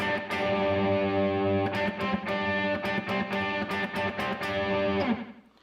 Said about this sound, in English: so there's a lot of distortion